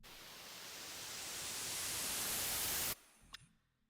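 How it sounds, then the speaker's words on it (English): A filtered white noise riser swells steadily brighter and louder for about three seconds, then cuts off abruptly, leaving a faint glitchy tail. "I just rendered down some noise, some white noise, and then put a couple of filters on it"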